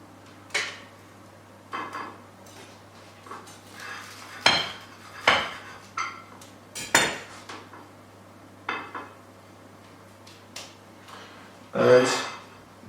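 A knife cuts garlic bread into triangles on a board, making a series of sharp, separate chops and knocks, spaced irregularly, close and fairly loud, with a low hum underneath.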